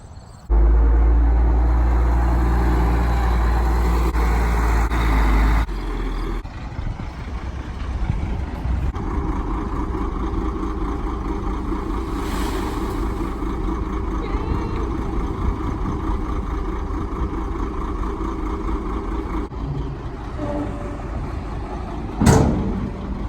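A large compost delivery truck rumbles steadily at idle, loud and close at first, then its engine drones on while maneuvering to turn around, with a brief sharp knock near the end.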